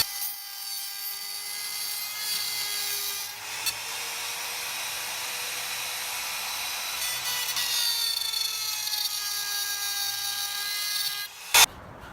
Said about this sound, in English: The third method with the router.